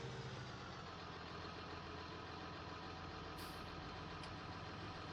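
A traffic vehicle in Farming Simulator, its engine holding a steady, faint, low drone with no breaks, heard alone at a distance.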